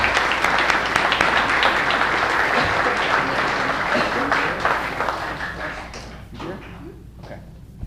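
An audience at a baseball team banquet breaks into sustained applause, dense and close at first, then thinning into scattered claps that die away over the final seconds.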